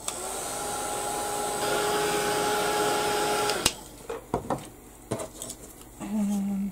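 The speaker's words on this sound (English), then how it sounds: "I'm just going to give it a quick blast with the heat gun just to get rid of the string from the glue gun" A heat gun blasts steadily on hot-glue strings at a craft table, a continuous whooshing hiss for a few seconds before it cuts off, followed by light clicks and handling knocks and a short hum near the end.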